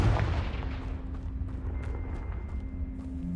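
A Confringo blasting spell cast in the video game Hogwarts Legacy, heard as a single booming burst at the start that fades into a low rumble, followed by steady game ambience and a thin ringing tone.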